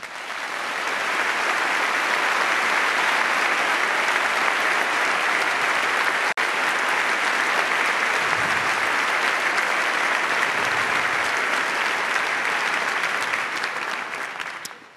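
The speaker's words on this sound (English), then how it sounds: "join me in a round of applause for our hosts, the co-founders of the Munk Debates, Peter and Melanie Munk" Sustained applause from a large debate audience honoring the hosts of the Munk Debates, steady and loud for nearly the whole stretch before fading at the end.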